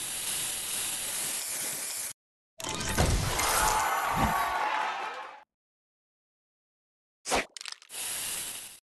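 The spray booster in the Match Masters game fires as bursts of bright hissing spray, several separated by abrupt silences, with a short sharp burst near the end.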